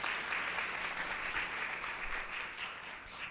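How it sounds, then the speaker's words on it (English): A room full of people at a women's forum applauding a volunteer, with dense, steady clapping that holds for a few seconds and tapers slightly at the end, no voices over it. "Let's give my volunteer a good round of applause."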